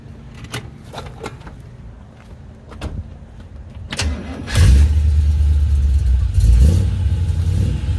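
A few faint clicks and taps, then a 355 small-block Chevy V8 in a 1923 Ford T-Bucket hot rod cranks and roars to life with a deep, loud rumble that rises once more before settling into a steady idle.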